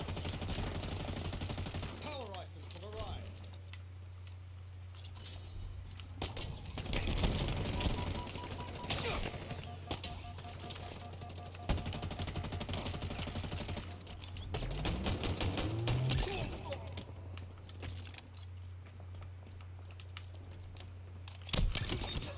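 Halo Infinite gameplay, with bursts of rapid gunfire and clattering shots that come and go over a constant low hum, with a voice talking at times.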